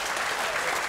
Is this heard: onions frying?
no